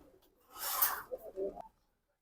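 A single soft, low pigeon coo lasting about a second, close by, followed by quiet, from a large racing-line pigeon.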